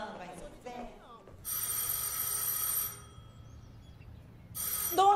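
A doorbell rings inside a home, two bursts of bright, sustained electric ringing separated by a short pause, with voices talking around it.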